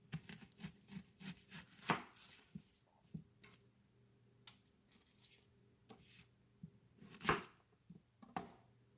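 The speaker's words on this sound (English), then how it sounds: "now I'm going to go ahead and chop up our onion" Knife chopping an onion on a board, a run of quick close taps followed by scattered heavier cuts and pauses, faint and alone.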